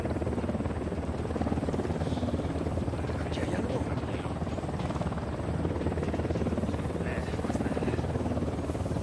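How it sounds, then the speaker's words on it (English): A helicopter in Ghost Recon Wildlands gives a loud, steady rotor drone with a constant rapid chop that fills the whole stretch. "We got a chopper coming in."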